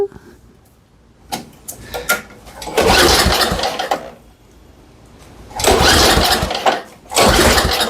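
An old MTD snowblower's small engine is pulled over and starts, with a couple of short cranking bursts that build into two longer loud sputtering runs, the engine dying briefly between them.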